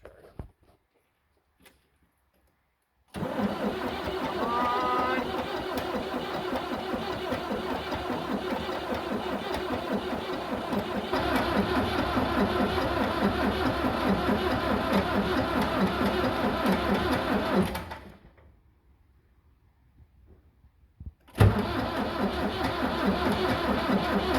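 A Ford 7610 tractor's diesel engine cranks at length without starting: a loud, steady, rumbling churn of the starter that runs for about fifteen seconds, stops briefly, then starts again abruptly.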